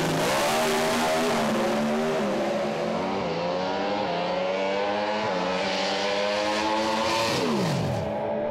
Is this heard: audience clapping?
no